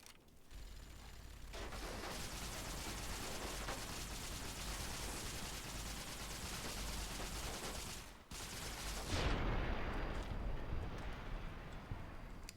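Dense video game gunfire in rapid sustained bursts, loud and continuous for several seconds, with a brief break before a heavier burst near the end.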